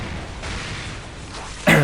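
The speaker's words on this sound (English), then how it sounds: "You hear it like the big explosion." Explosion from stick bombers in the Warhammer 40,000 Dawn of War video game, a single sudden loud boom at the very end after a stretch of low battle rumble.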